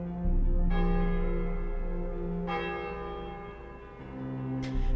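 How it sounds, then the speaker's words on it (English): A church bell rings with a few slow, heavy strikes, each tone lingering in a long, resonant decay. "The church bell, hanging high in the tower,"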